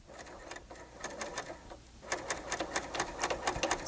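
Bernina L890 sewing machine stitching through fabric, a fast rhythmic mechanical chatter in two bursts with a short pause between, close and clear with no talking.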